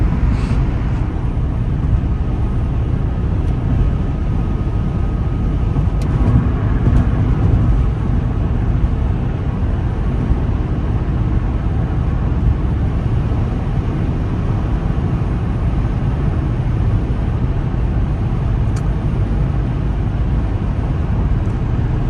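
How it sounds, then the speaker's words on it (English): Steady, loud cabin drone of a 2007 Toyota Prius driving through city streets and on the freeway, heard from inside as a continuous road and engine hum with no talking. "I think this car is quieter than a lot of other economy type-ish cars"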